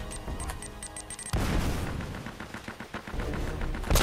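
Video game gunfire from Uncharted: Drake's Fortune, with a sudden loud blast followed by dense, rumbling combat shots and impacts that continue steadily and end on another heavy bang, without any talk.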